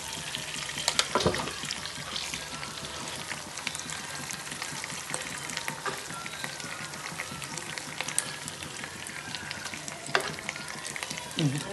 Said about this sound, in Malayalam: ഞാൻ ചിക്കൻ പൊരിഞ്ഞെടുത്ത്